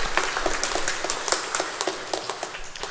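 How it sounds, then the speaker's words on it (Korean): A church congregation at a Sunday morning worship service in Mokpo gives a short round of applause, with scattered, fairly faint claps going steadily throughout. "다시 한번 우리 예배를 받으시는 주님께 영광의 박수 올려드리겠습니다."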